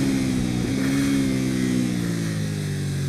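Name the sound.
KTM 790 Duke motorcycle engine on track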